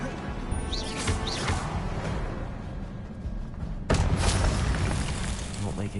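Confringo blasting spell explosions in Hogwarts Legacy, a couple of sharp booming bursts with crackling debris, close and loud over game music and effects, with a voice calling out in the middle.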